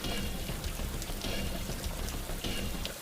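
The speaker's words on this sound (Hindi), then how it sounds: "बारिश अब रुकने का नाम नहीं ले रही थी" Steady rain pours down, a dense hiss of drops splashing on surfaces with no break.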